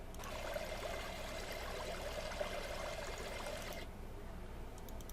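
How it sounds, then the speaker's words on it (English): Large creek water rushes and babbles continuously, a dense, steady flow heard close and alone for a few seconds. "here's creek large."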